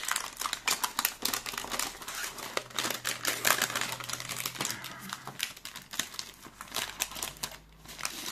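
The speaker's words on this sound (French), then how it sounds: "Je sais que le bruit du papier, c'est pas agréable." Paper being crumpled and rustled while tidying up after unpacking purchases, close-up crinkling and crackling in irregular bursts, loud and continuous with brief pauses.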